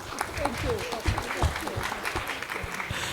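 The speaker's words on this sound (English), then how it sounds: "Big round of applause" Audience applause at a panel discussion on climate finance, moderate scattered clapping mixed with a speaking voice over it.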